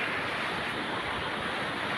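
The Lidong river rushes past in a constant broad roar of moving water, loud and close, with no other sounds breaking through.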